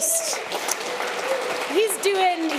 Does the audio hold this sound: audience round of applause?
yes